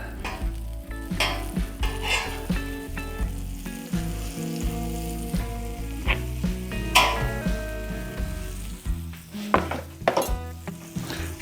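Butter and bread sizzle on a hot Blackstone griddle, a steady near frying hiss with scattered scraping and clatter of a spatula and utensils, no talking.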